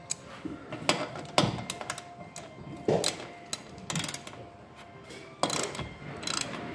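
A ratchet loosens a bolt on a small garage door's track bracket, giving bursts of rapid metallic clicking with short pauses, close and fairly loud, with no talking.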